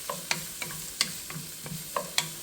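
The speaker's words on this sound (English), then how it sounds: "Give that a good stir." Diced carrots being stirred into Spanish-style rice sizzling in a pan, with a spoon scraping in repeated sharp strokes, roughly one every quarter to half second, over a steady low frying hiss.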